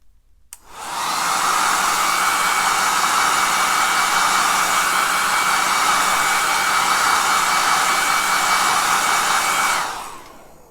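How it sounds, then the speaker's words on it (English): A hair dryer blows steadily on a freshly splattered ink painting, a loud, even rushing hiss that switches on abruptly, holds constant for about nine seconds, then cuts off. "So I'll let that dry with the hairdryer and we'll come back."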